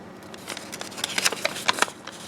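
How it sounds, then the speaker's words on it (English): Close, quick crinkling and sharp creasing of an origami paper square being folded in half diagonally for a sea urchin kusudama, with several crisp snaps over a soft rustle. "Fold it in half diagonally."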